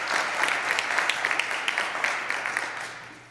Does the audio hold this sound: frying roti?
no